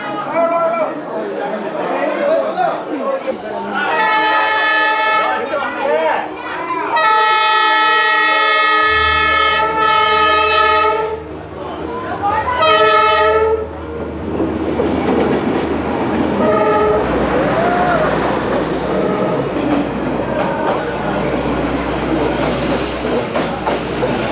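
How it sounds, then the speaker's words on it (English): A train rumbles past close by on a street in Hanoi, Vietnam, sounding its horn in several long blasts, with people chattering nearby as the wheels clatter on. "Here comes another train"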